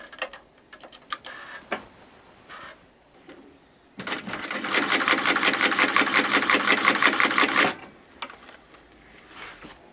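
A century-old design of shoe sewing machine stitching with thick thread, a few scattered mechanical clicks and ticks, then a loud rapid rattling run of stitches for several seconds before stopping and returning to light clicking.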